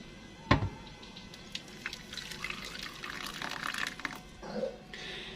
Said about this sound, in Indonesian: Nah, di sini langsung aja saya mau tuang airnya teman-teman.